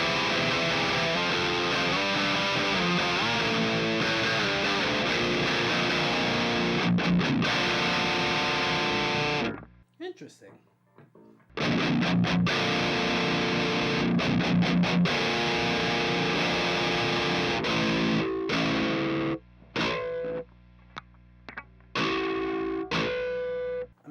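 Electric guitar fitted with Fishman Fluence Stephen Carpenter pickups on voice 2, heavily distorted and clear, playing loud sustained riffs with a brief pause near the middle and choppy stops toward the end.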